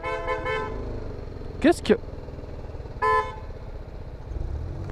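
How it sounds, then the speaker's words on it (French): Car horns toot in French traffic around a motorcycle: a short double honk midway and another sustained blast a second later, loud over the rumbling engine while someone talks briefly at the start. "Pourquoi ça klaxonne?"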